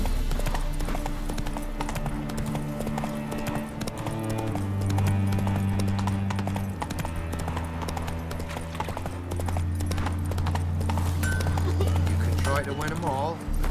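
Steady horse hoofbeats clip-clop at a trotting pace in The Witcher 3 beneath a continuous musical score, with no gaps throughout.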